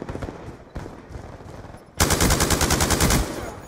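Light machine gun in Call of Duty: Black Ops 2 opens up in a loud, rapid sustained burst of roughly a dozen evenly spaced shots lasting over a second, following quieter in-game ambience and footsteps.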